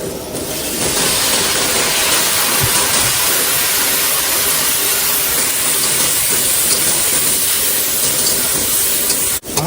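Water hits a hot pan of spiced fish curry with a loud, continuous hissing sizzle that holds steady for several seconds before stopping abruptly.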